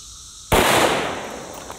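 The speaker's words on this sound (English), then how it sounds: "we're actually gonna shoot the Underwood Extreme Penetrator out of this one" A single sharp 10mm pistol gunshot, firing an Underwood Extreme Penetrator round, cracks loudly after a brief quiet moment, followed by a fading echo that rolls off over the next second.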